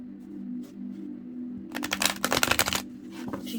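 A deck of cards is riffle-shuffled close by, a quick burst of rapid fluttering clicks over a low steady hum.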